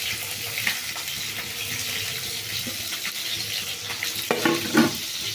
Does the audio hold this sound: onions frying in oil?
yes